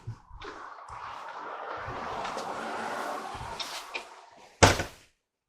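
Screen door on a 2024 Jayco Jay Feather 22RB travel trailer swung shut, ending in one sharp, close slam after softer rustling and handling sounds.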